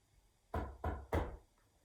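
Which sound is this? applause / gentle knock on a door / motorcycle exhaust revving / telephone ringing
gentle knock on a door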